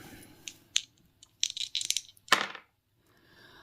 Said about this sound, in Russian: А сейчас я хочу бросить мои кубики и посмотреть, что же у меня следующее будет.